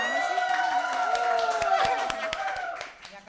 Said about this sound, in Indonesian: Oh gitu tepuk tangan dong